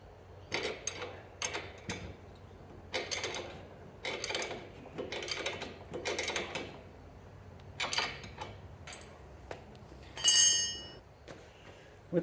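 A spanner tightens a sway bar strut on a lowered 6th gen Camaro, producing a series of faint, close metallic ticks and clicks in a regular ratcheting rhythm, with a brief brighter clink near the end.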